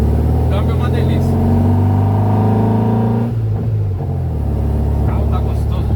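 A 1970s Volkswagen Fusca (Beetle), 1600 or 1500, drives along with its air-cooled engine droning loud and close. The pitch rises steadily, then drops as the gear changes and builds again, with a voice talking over it.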